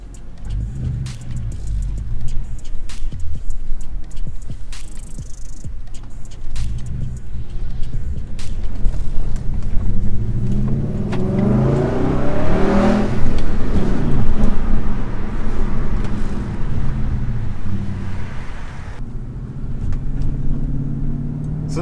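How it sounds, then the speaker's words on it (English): A V8 all-wheel-drive car driving past close by, its engine rumbling under a broad whoosh that swells as it revs and accelerates, then fades toward the end. "This car, V8 all-wheel drive, right? Fun."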